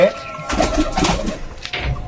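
Pigeons in a loft cooing in low, soft repeated calls, close by, partly mixed with a person talking.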